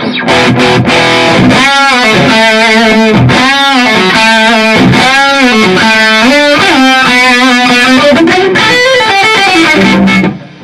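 A gliding, sustained pedal steel guitar through a boost pedal plays loud, slightly gritty chords with swelling slides, continuous for about ten seconds before cutting off.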